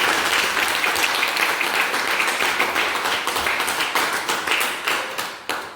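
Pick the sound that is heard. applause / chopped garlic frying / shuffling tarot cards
applause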